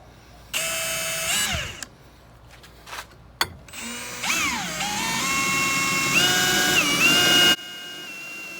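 Milwaukee M18 Fuel cordless drill, 4th generation, boring into 1/4 inch steel: a loud close motor whine that rises and sags under load, pausing briefly with a few clicks and knocks before a longer sustained run, then cutting off.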